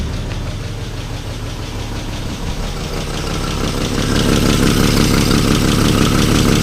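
A 1962 Plymouth Valiant, abandoned for over 20 years, idles with a rough, uneven engine rumble and a noticeable exhaust leak, growing steadier and a little louder midway, close by with no talk.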